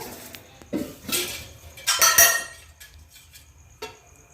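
A metal kadai set down on a kitchen counter while preparing street-style Maggi masala, several clinking and knocking impacts of cookware and utensils spread across a few seconds, close and moderately loud with no talk.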